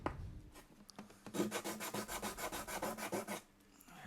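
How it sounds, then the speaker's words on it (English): Steady back-and-forth rasping of sandpaper scrubbing old glue off a wooden guitar surface at the bridge area, a rhythmic series of strokes close up, with no talking. "And so more sanding and more sanding."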